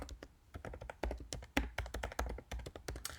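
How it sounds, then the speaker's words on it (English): Typing on a computer keyboard while entering a journal article reference, with irregular bursts of crisp key taps and short pauses, close and fairly quiet. "So I'm going to go ahead and type that up here."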